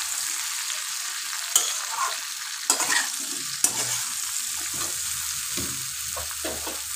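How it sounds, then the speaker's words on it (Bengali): Cut okra sizzles in hot oil in a pan with a soft, steady frying hiss, broken by a few sharp clinks and scrapes of a spatula stirring the pieces. "এটাকে একটু ভেজে সাঁতলে তুলে দেব।"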